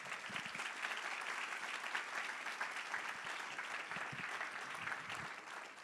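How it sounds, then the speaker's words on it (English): An audience at a meeting gives a round of applause: dense, sustained clapping that holds an even level for the whole stretch, with a faint murmur of the crowd underneath. "Can we give them a round of applause?"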